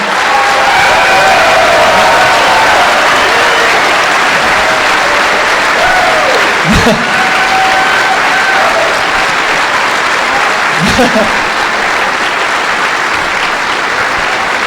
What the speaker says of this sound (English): let's get a round of applause for everybody who helped out